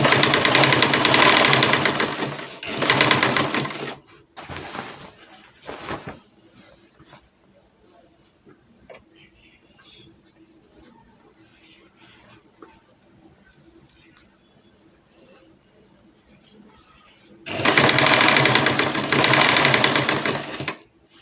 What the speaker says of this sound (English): then stitch it all around.